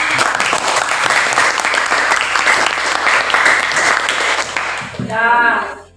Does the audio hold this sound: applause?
yes